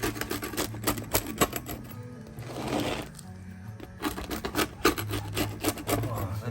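A knife slicing through a crispy-based pizza fresh from a wood-fired oven gives quick, dry crunching and rasping strokes in rapid bursts, close and fairly loud, with a brief pause midway.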